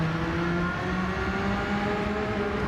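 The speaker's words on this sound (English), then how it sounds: "twin turbo V6 from 1991 is not the most musical of sounds you'll ever hear." A steady video-game engine drone from a 1991 twin-turbo V6 hums at moderate distance, the tone holding nearly constant with a slight rise, no voices present.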